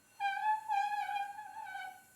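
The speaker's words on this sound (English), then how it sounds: "That noise is a result of me pushing the cup down firmly against the chuck while spinning it" A clay cup pressed firmly down onto a spinning pottery chuck gives off a faint, clear squealing tone with wavering pitch, lasting about two seconds in a quiet room.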